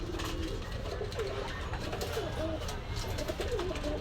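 Soft, repeated pigeon coos ripple through a steady low background hum, several calls overlapping in a continuous murmur, at a pigeon shop market in Gallamari, Khulna.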